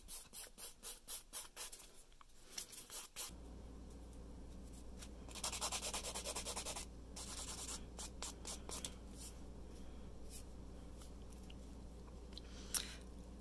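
Nail file rasping back and forth across fingernails to smooth out bumps, a close, quiet series of rhythmic scratchy strokes, first quick and separate, then steadier with brief louder bursts.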